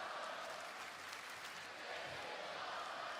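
A wrestling arena crowd at a live WWE Raw event roars and applauds steadily, a dense, sustained wash of cheering and clapping from a large audience with no break across the moment.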